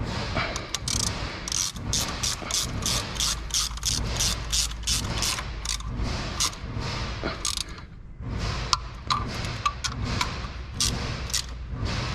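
Bolts on a 2006-2010 Chrysler 300 being tightened with a ratchet during a rattle-noise repair, a loud, close, steady run of rapid clicking that pauses briefly partway through and then resumes.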